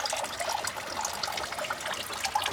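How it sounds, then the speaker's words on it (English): Water trickles steadily from a plastic pipe into a small duck pool, a soft continuous splashing and bubbling with small irregular drips, fairly quiet and unbroken throughout. "But I keep a steady trickle of water going"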